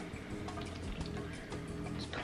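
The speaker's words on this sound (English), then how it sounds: "pour cherry mixture into prepared baking dish" Thick cherry cobbler mixture pours and slops into a 9x13 baking dish, a close, soft, wet glugging and splattering that runs continuously.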